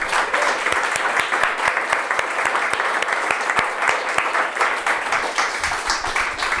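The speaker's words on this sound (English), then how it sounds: "Can we all give a little round of applause" Audience applause at a workplace mental health event, a dense steady patter of many hands clapping close by for the full stretch, with no talk over it.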